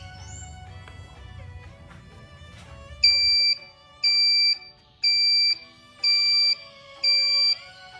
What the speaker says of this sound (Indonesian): sensor alarm guna mengetahui ketika air berada di ketinggian yang maksimal, maka sensor alarm akan berbunyi